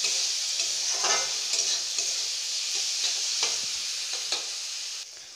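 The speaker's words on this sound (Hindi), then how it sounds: "अब हम सभी चीज़ों को अच्छे से मिक्स करेंगे ताकि हमारे मसाले एक में मिल जाएं," Spiced dal in a pan sizzles and fries steadily while a spoon stirs and scrapes through it in intermittent strokes, fairly close, with no talking.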